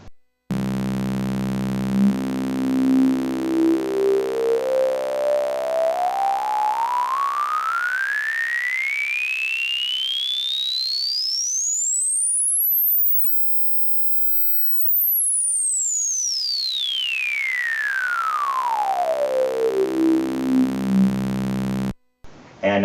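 Korg synthesizer filter with resonance turned fully up, a loud whistling resonant peak sweeping steadily upward over about eleven seconds, cutting out briefly, then sweeping back down, alone with no talk.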